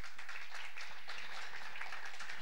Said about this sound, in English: Let's give a huge round of applause for Dominique.